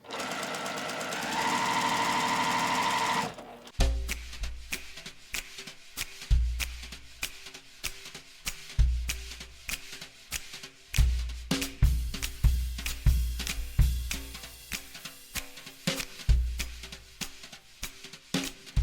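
A sewing machine runs in close, repeated bursts of rapid stitching as quilt rows are sewn together, starting and stopping between pins, after a brief steady hum at the start.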